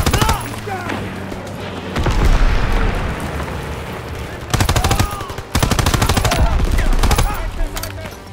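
Loud, sustained machine-gun fire from Call of Duty WW2 campaign combat, dense rattling bursts with booming impacts and explosions, over a thick battlefield din, with voices shouting orders amid the shooting.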